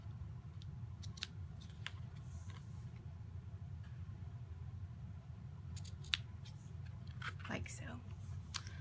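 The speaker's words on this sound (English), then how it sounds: "you're going to want to trim that down a little bit" Scissors trim cardstock for a Stampin' Up! pillow box treat, giving a few faint crisp snips over a low steady background rumble, with quiet talk near the end.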